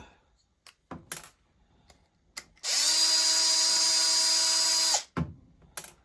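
A power tool backs a bolt out of a seized Traxxas Revo 3.3 nitro engine: a loud, steady whir of about two and a half seconds, with sharp clicks and taps from handling the parts before and after.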